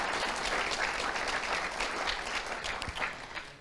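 Applause after opening remarks at an event on investing in renewables and storage in Ukraine, a steady wash of many hands clapping that thins and fades toward the end, with no talk over it.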